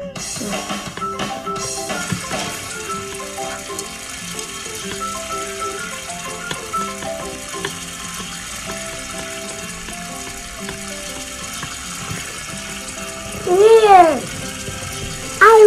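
Food fries in the cooking game Boffo's Breakfast with a soft, continuous sizzle under tonal game music, a brief louder swell near the end, and some talking mixed in.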